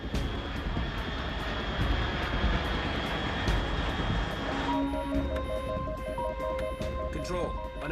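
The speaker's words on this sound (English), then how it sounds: "Unidentified aircraft detected." Aircraft engine drone from Metal Gear Solid 3, a steady broadband roar that fills the whole clip, with game music and tones entering partway through.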